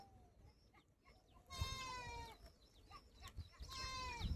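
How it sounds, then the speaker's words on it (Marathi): A goat bleats twice in long, wavering cries, close by, with quieter outdoor rustling between the calls. "आपली बकरी इकडेच एक राहिली, ती ओरडते."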